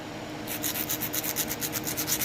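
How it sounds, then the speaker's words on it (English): Stone edge being ground down for knapping, a steady rough abrasive rubbing with rhythmic strokes, close and moderately loud, with no talking. "Grind that down"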